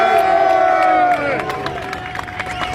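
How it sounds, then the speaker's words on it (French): A large crowd cheers and shouts loudly, with scattered clapping breaking through the roar. "Applaudissez-le fortement, s'il vous plaît."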